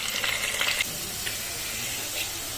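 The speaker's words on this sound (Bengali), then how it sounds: "আলুগুলি ভেজে নেব।" Potatoes frying in hot oil give a faint, soft sizzle with a brief brighter crackle at the start, heard close and alone.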